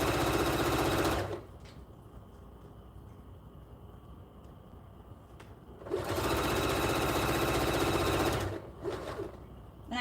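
A sewing machine stitches along the edge of a blanket in two long, loud runs of rapid whirring, separated by a quieter pause, then a short final burst starts up again.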